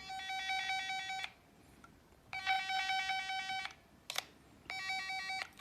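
A cable detector held near a cable sounds an electronic tone in three bursts of about a second and a half, separated by quiet gaps, with a brief click between the second and third.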